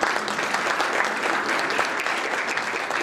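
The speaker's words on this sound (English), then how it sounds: "So everyone in this room, please give yourselves a round of applause" Dense, steady applause from a room full of attendees at a STEM ecosystem event in San Antonio, a continuous wash of many hands clapping at even loudness for the full stretch with no talk over it.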